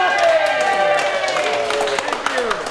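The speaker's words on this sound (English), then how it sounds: "Round of applause for our judge" Scattered clapping and crowd noise at a live improv show as the audience applauds the judge, brief and mixed with overlapping voices and tonal sound.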